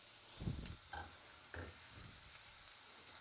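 Chopped onion fries in a pan with a quiet, steady sizzle, broken by a few soft clinks and stirring scrapes close by, with no voices.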